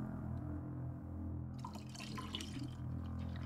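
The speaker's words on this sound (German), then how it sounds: "So, ich gieße mir nochmal ein" A drink is poured into a glass, liquid splashing and trickling in a short, quiet stream with a few drips, alone and close up.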